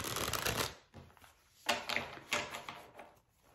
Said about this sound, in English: Now we're going to draw more tarot, develop this reading fully.